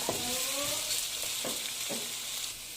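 Potatoes and carrots fry together in a pan for chicken pastel, making a bright steady sizzle with a few soft stirring scrapes and taps, close by and without speech.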